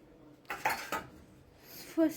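Dishes, pots and cutlery clatter nearby in a home kitchen, several sharp clinks and knocks in quick succession, then a quieter stretch and another clank near the end, with no talking over them.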